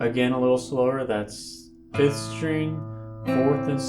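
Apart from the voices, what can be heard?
No distinct noise like a dog, phone or traffic.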